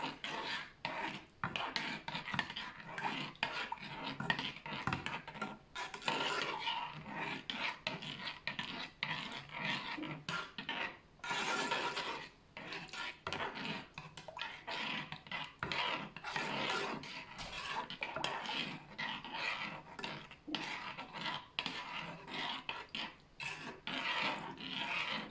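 Homemade toilet cleaning gel stirred in a container, giving a continuous uneven rasping and scraping with short rubbing strokes that are close and moderately loud, with no talking.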